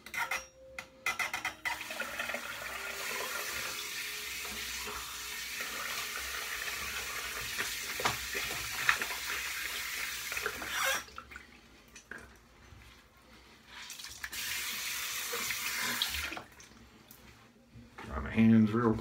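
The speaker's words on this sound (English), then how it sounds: "Let's go ahead and wet the face." Water runs steadily from a tap while a man wets his face for shaving, a broad continuous hiss broken by short pauses and splashes, with a voice talking intermittently.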